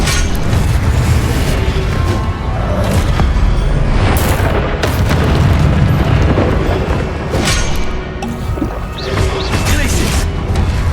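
Repeated Confringo blasting spells in the Hogwarts Legacy video game boom over dense, loud battle noise, with heavy thuds and crashes layered under a speaking voice.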